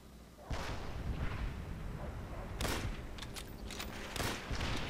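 Tank cannon fire in Call of Duty: World at War, three heavy, booming blasts with rumbling tails spaced a couple of seconds apart over continuous battlefield noise, fairly faint overall.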